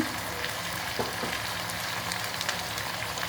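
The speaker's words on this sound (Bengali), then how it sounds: "দিয়ে দিচ্ছি আপনার সিদ্ধ করে রাখা সুইট কর্ন পেঁয়াজ ক্যাপসিকাম" Sweet corn, onion and capsicum fry in a pan for a Japanese-style chilli chicken, giving a steady close sizzle with light crackles throughout and no talking.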